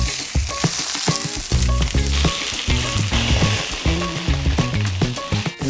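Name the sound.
leek sizzling in a hot cast iron pan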